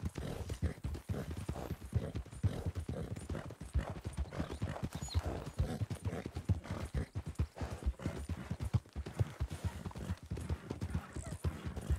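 Rapid, rhythmic hoofbeats of a galloping horse in a ranch roleplay video game drum steadily throughout, close and fairly loud, with faint background noise.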